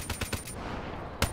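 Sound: gunfire in The Division video game

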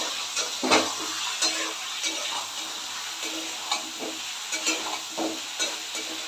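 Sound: stirring soybean curry with cashew paste in a pan

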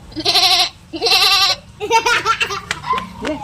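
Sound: child imitating a goat bleating

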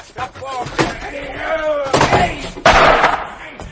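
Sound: door being forced open in radio drama

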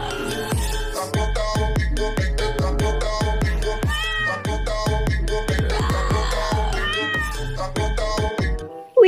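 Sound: cat meowing

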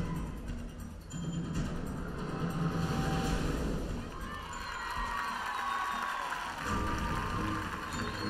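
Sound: audience applauding and cheering at artistic swimming final

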